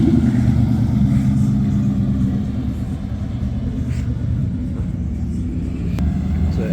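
A Mazda FC RX-7 rotary engine rumbles loudly and close by at a car meet, a continuous low drone that eases slightly partway through before holding steady.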